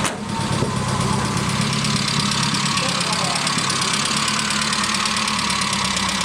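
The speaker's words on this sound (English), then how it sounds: "the sound of the engine will probably bottom out the microphone" A Nissan Skyline GT-R engine runs loud and close at a steady idle, a continuous rumbling hum with no breaks, nearly saturating the recording, at a Japanese car auction.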